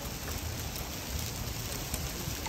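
Hard hail falls during a hailstorm at Seal Beach, a dense, steady hiss of pelting ice that is close and continuous. No voices are heard.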